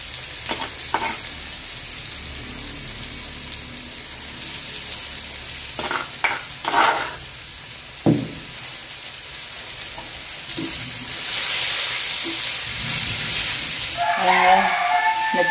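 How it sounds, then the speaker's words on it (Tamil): Dried salted mushroom pieces dropped into a pan frying with tomato, green chili and ginger give a steady sizzle with a few stirring scrapes and clatters, growing louder and denser toward the end, close by with no talk. "இப்போ வந்து நான் தூளுப்பு எல்லாம் போட்டு பதப்படுத்தி வச்சிருக்கிறதான காளான் வத்தலை இந்த வதக்கலத்தை போடுறேன்"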